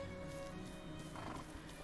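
In the ranch video game Ranch of Rivershine, a horse's hooves clop along with a whinny rising briefly near the middle, heard over a soft, steady game ambience and music bed.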